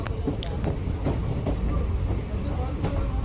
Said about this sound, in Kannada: ನಮ್ಮ ಟ್ರೈನ್ ಈಗ ಮಂಗಳೂರು ಜಂಕ್ಷನ್ಗೆ ಎಂಟ್ರಿ ಆಗಿದೆ